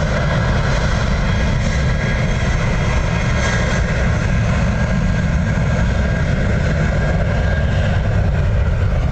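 Aircraft at Dublin Airport roar loudly and continuously, a broad, steady engine rumble holding level throughout with no pauses.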